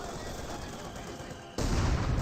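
Sustained .50 cal machine gun fire from a Company of Heroes 2 battle, a dense rattling barrage that gets louder and heavier partway through and carries on steadily, with no talk over it.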